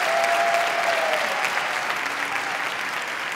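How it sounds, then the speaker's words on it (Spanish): A fuerte aplauso from the audience at a televised final gala, dense sustained clapping that fills the space loudly and evenly, slowly easing off toward the end. "Un fuerte aplauso,"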